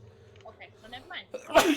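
A person sneezes once near the end, a sharp loud burst after a short stretch of casual talk at a tabletop role-playing game session.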